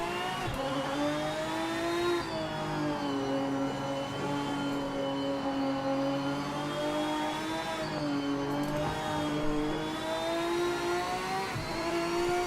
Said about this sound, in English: Car sounds nice